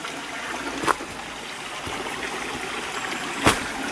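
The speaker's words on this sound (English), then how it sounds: "clear and pleasant little stream it is" A small creek trickles and burbles steadily at moderate volume near Mermaid's Cave, Blackheath, in the Blue Mountains, Australia, with two brief sharp clicks standing out over the flowing water.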